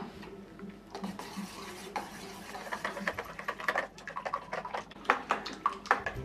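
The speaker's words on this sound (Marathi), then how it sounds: "आता ही अंडी घातलेली आहेत ना ते आपण फेटून घेऊया" Eggs being whisked in a bowl for a quick breakfast egg dish, a busy run of light clinking and stirring taps against the bowl that grows louder and more irregular toward the end, with no talk.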